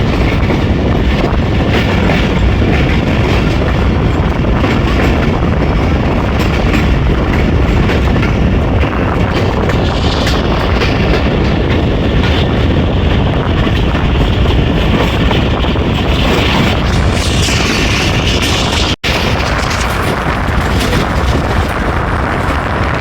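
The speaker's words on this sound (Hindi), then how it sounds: "मरीड चौक से पास हो रही है ट्रेन।" Tezgam Express 8Dn passenger train running on the main line between Rawalpindi and Lahore, a steady loud roar of wheels and carriage rumble throughout, with one brief sharp knock near the end.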